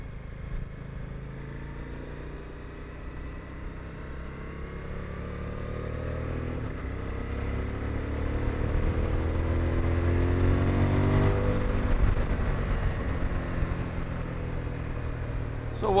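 Suzuki V-Strom 1050DE motorcycle engine droning steadily while riding, with gear changes and throttle blips on downshifts, the engine note rising and falling under wind rush and some faint speech.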